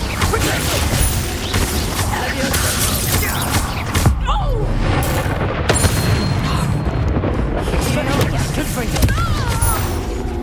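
Incendio fire spell blasts in Hogwarts Legacy, a dense barrage of loud booming bursts and crackling impacts during battle, layered with game music and effects, with a voice speaking over it.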